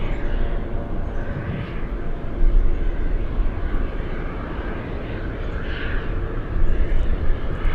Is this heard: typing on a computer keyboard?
no